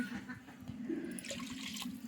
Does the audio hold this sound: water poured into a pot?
yes